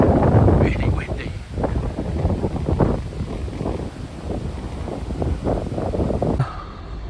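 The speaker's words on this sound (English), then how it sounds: "Really, the wind in the last 2 weeks has been very strong, and tonight it's gone mad again." Strong wind buffets a motorhome at night, hitting the microphone in a constant low rumble with gusting surges, steady and loud throughout.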